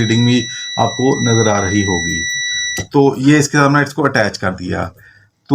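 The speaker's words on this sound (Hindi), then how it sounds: "आपको बीप सुनाई दे रही होगी" A Krom Schroder burner control unit running on a testing kit emits a steady, high electronic beep tone that holds for the first half and then stops, while someone talks continuously over it.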